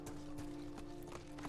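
Quiet, rhythmic clip-clop of horse hooves in Ghost of Tsushima over a steady electronic hum, evenly spaced footfalls at a trotting pace.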